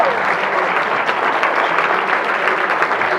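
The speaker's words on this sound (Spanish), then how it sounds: "Un aplauso para Ronnie." A tech talk audience applauds the speaker Roni Bandini, a loud, dense and continuous round of clapping from many people, close and steady from start to finish.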